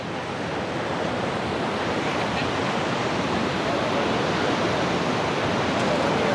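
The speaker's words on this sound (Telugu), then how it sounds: "చూడండి అలలు ఎంతెంత పెద్దవి వస్తున్నాయో." Big ocean waves roll and crash without letup at a Goa beach under light rain, a loud, dense wash of surf mixed with wind buffeting the microphone.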